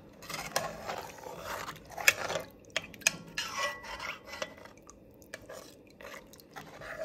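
A spoon scrapes and stirs sautéed meat and flour in a pot for a vegan Tuscan-style soup, with irregular close rubbing, clinking and squelching strokes.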